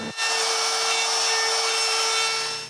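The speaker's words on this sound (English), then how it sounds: "I can sand it to the size of the box and route a round over everywhere" Sanding a wooden faceplate down to the size of a box gives a steady, close, fairly loud abrasive hiss and rasp, starting abruptly and continuing unbroken with no speech.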